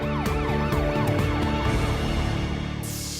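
An ambulance siren wails with rising and falling sweeps, loud and steady over traffic noise, alongside a second overlapping siren tone.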